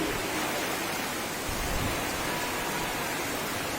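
Heavy rain pours down over a weekly market in Falakata, making a dense, even roar of falling water that stays steady throughout with no voices.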